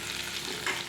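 Tomatoes fry in a pan for Telugu pachadi, a steady close sizzle with soft stirring, brightening briefly near the end, with no voices.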